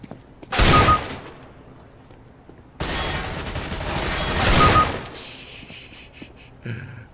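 Rifle fire in the CS:GO video game: two long, loud bursts of rapid automatic shots separated by a quiet gap, followed by a spray of sharper, clinking metallic sounds as the second burst tails off.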